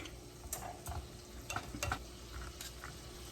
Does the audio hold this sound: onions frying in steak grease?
yes